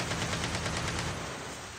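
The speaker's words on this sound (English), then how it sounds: "doing some tricks along the way to avoid the gunshots" Rapid automatic gunfire in the mobile shooter Call of Duty: Mobile, a steady, fast rattling burst of shots that stays even and fairly loud for under two seconds, with no voices.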